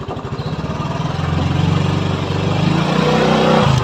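A Motorstar Easyride 150P motorcycle engine revs up to about 3,000 RPM, a close, loud, buzzing drone that rises steadily in pitch and holds throughout.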